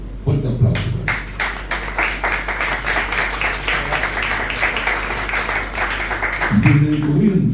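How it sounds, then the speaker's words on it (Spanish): Audience at an artistic gathering and awards ceremony breaks into sustained applause, fairly loud and steady with individual claps pulsing through, a voice starting to speak as it fades at the end. "Fuerte aplauso para él."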